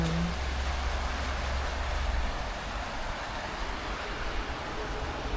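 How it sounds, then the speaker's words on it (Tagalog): Steady rain falling outdoors in Australia, a dense continuous hiss with low rumble beneath, fairly loud and even throughout with no talk. "Kita niyo ba yung ulan?"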